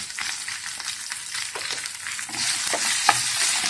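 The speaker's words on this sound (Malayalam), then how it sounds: "വെണ്ടയ്ക്ക ഒന്ന് നന്നായി വരണ്ട് വഴറ്റിയെടുക്കണം" Okra is sautéed dry in a pan with a close, steady sizzle broken by repeated spatula scrapes and stirring.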